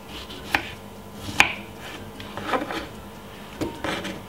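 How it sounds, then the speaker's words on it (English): Knife chopping fresh strawberries into small dice on a board, a few sharp separate knocks spaced through the moment, fairly close and moderately loud, with no talking. "simple cut it up very small into some dices"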